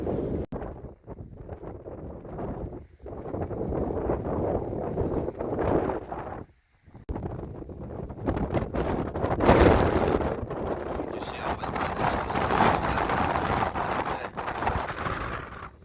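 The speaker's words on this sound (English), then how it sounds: "It's so windy." Storm Ashley's strong gusts roar and flap against a Helm 1 tent at a wild camp by Blea Tarn, in uneven bursts, loud and close, with brief lulls between heavy buffets.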